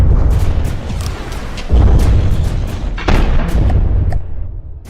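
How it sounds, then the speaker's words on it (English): A particle cannon fires in a video game, a series of heavy booming blasts with rumbling low-end tails, loud and close, several discharges overlapping across the stretch with no talking. "Particle cannon."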